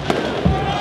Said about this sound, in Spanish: Suenan los fuegos artificiales.